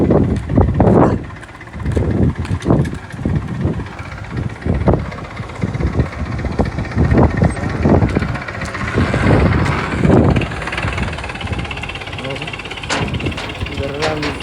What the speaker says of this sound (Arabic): أهو جرار عامل ازاي